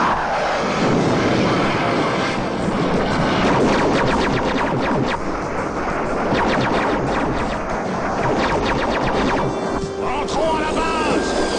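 Animated battle scene with aircraft engines roaring throughout and rapid bursts of cartoon gunfire crackling over them, dense and loud for the whole stretch, with shouted voices under the din.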